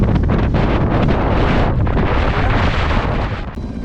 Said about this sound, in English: The wind was tremendous.